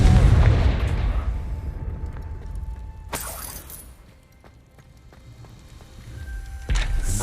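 A Confringo blasting curse fired in the Hogwarts Legacy game, a heavy booming explosion that rumbles and fades over several seconds, followed by a sharp crack near the end.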